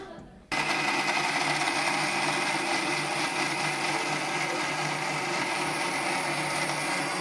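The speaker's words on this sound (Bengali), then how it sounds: "কাজু বাদাম, পোস্ত, এগুলো মশলা সব এখানে মিক্সিতে এখন মিশিয়ে নেব" An electric mixer grinder starts abruptly and then whirs at a loud, steady pitch while grinding cashews, poppy seeds and spices.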